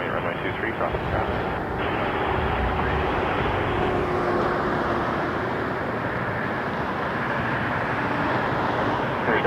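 An airliner at Toronto Pearson Airport gives off a steady, broad jet roar that holds at a constant level, with air traffic control radio chatter running over it.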